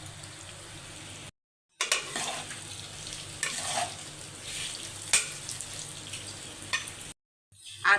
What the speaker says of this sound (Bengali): মশলার সাথে সবজিটাকে ভালো করে মিশিয়ে নেব।